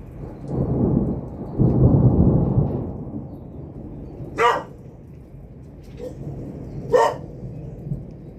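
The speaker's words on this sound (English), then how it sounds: "Scary thunderstorm, huh?" Thunderstorm with rolling thunder and rain: deep rumbles swell and fade over the first few seconds, followed by quieter steady rain and a couple of sharp, brief higher bursts that could be barks.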